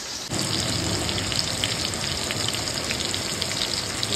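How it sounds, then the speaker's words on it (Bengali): Chicken kebab fries in oil in a kadai, giving a steady, dense sizzle that holds evenly from start to finish at moderate level with no voices. "তা আমরা আমি এটা কড়াইতেই ফ্রাই করে নিই"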